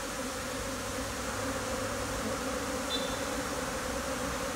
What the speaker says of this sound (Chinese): 你看那个巢口的蜜蜂越来越多，越来越多。